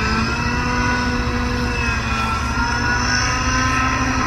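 An autonomous helicopter flying aerobatic maneuvers, including an upside-down pendulum swing, drones steadily with a continuous near engine and rotor hum and a strong low tone, holding level for the whole stretch with no voices.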